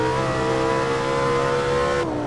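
Lamborghini Sesto Elemento engine howling under steady acceleration, a loud sustained tone holding throughout before a brief dip near the end as the revs shift.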